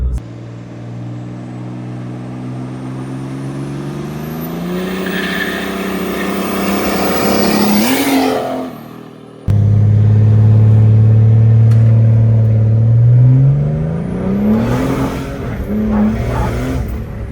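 A high-horsepower Mercedes S-Class with a superturbo diesel and an upgraded transmission accelerates hard. Loud, close engine pitch climbs steadily, breaks briefly at a gear change, then roars up again.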